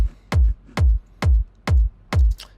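A techno kick drum layered with sub bass thumps five times at an even tempo, each hit punchy and heavy with a deep low tail, with quiet gaps between hits and no voices.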